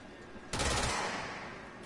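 A bomb gun fires in the video game Control, a sudden loud explosive blast that hits hard and then rolls off into a fading rumble.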